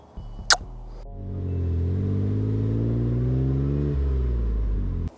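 A turbocharged Mosselman Mercedes with a 5-speed manual revs up loudly through its aftermarket exhaust, holding a steady, deep droning roar for several seconds, then cuts off abruptly.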